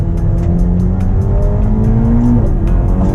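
Ferrari Lusso T accelerating hard in sport mode, its engine close and loud, climbing through the revs with a gear change near the end and rapid ticking from the cabin.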